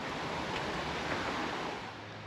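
Creek flowing beneath a waterfall viewpoint, a continuous broad rushing of water that is fairly close and steady, easing slightly toward the end, with no talking.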